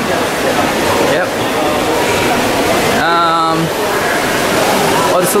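Water from a feature at the Solarium pool aboard a cruise ship splashes in a constant, loud rush under nearby talking, with a brief tonal sound partway through.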